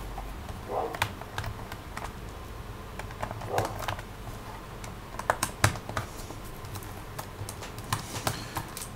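Small Phillips head screws being turned out of a Dell Inspiron 11 3000 laptop, a series of faint close clicks and scratchy ticks scattered irregularly with no talking.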